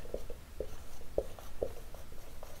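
Handwriting during a chemical reactor engineering lesson, a series of short scratchy pen strokes at an uneven rhythm, close and fairly quiet, with no talking.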